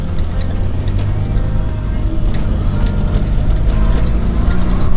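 A long-dormant Peugeot 206 being driven, its engine and road rumble loud and steady from inside the car, gradually growing a little louder.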